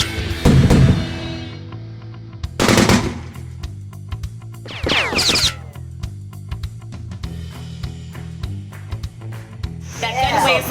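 Machine gun fire at an outdoor shoot: loud bursts and rapid popping shots, some near, others further off, with people talking over and between the gunfire.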